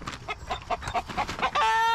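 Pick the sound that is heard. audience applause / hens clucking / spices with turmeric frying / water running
hens clucking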